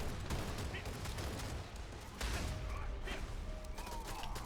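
Bombs bursting among enemy mobs in the Elyon game, a dense run of crackling blasts and thuds in a busy battle mix, with a voice talking faintly beneath.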